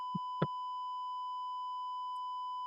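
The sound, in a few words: shrill beep of ECG machine showing flat line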